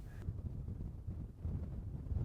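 Strong wind on a windy Montana hillside buffets the microphone with a low, continuous rumbling roar, faint and steady for a couple of seconds.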